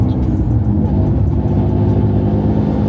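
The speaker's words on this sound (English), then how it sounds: "you can really hear the turbo if you just give it a little" Turbocharged Nissan G35 engine pulling under light throttle, around a tenth open, a steady dense mid-low drone held at even loudness with faint whirring above, close and with no talking.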